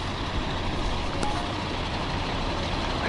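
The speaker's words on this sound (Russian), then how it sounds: "Этот звук вообще ни с чем не сравним, как стоянка грузовиков." Low, constant rumble of several idling truck engines nearby at a winter truck stop, a steady drone with no talking.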